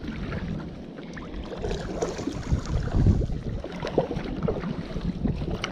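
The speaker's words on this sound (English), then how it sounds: "the wind is blowing super strong this way" Strong gusty wind sweeps across a lake, buffeting the microphone with a rough, fluctuating roar from a kayak on the water, swelling and easing in uneven gusts.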